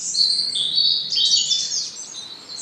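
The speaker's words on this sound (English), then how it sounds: "Just listen to the bird song." Bright, high chirping birdsong trills on and off over a quiet English cottage garden, several birds calling close by with no voices.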